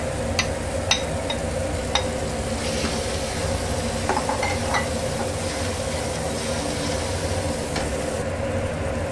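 Chana dal is poured into hot oil with ginger, cumin and turmeric. A continuous close sizzle of frying runs throughout, broken by occasional clinks and scrapes of a utensil against the pan, with no voices.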